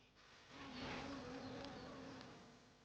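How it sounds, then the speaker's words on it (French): Bees buzz steadily around a nest inside an abandoned French manor, a continuous insect drone that swells after the first half-second and holds fairly close, with no talking. "Oh, mais on a un nid d'abeilles là-bas, donc il faut faire attention."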